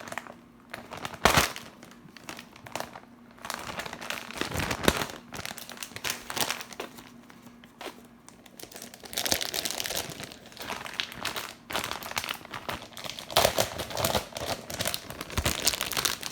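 A Trader Joe's Quattro Formaggio shredded cheese bag being bitten and torn open, with repeated close crinkling and crumpling plastic, sharp rips and rustling throughout.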